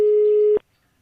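A single steady telephone tone, one held beep lasting about half a second before it cuts off abruptly into silence.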